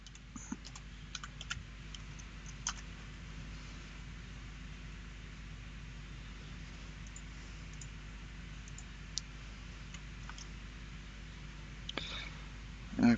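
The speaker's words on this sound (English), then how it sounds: "I'm just typing away here" Keys clatter on a computer keyboard in quiet, scattered bursts of clicks over a low steady hum, the taps soft and irregular.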